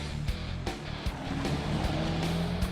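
A Dodge Challenger SRT8 with a 6.1-liter Hemi V8 rated at 425 horsepower rumbles steadily and loudly up close, with sharp periodic pops cutting through the deep engine drone.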